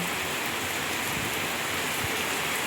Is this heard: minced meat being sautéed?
no